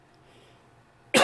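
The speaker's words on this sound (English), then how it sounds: "I cough up a storm here" A single sharp cough bursts out at the very end after near silence, close and loud, alone with no talk.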